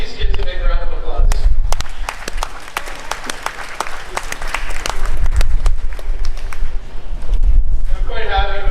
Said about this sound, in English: So let's give these kids a big round of applause.